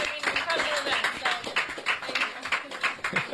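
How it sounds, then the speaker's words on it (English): Audience applause at a community panel discussion in New York, uneven clapping from a modest crowd, loud and close with distinct individual claps and some cheering voices mixed in. "of applause for the Black and Hispanic Caucus to put this all together."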